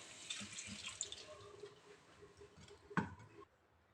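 Chicken liver and tripe being washed by hand under a running kitchen tap, with close splashing and squishing, a louder slosh near the end, then quiet.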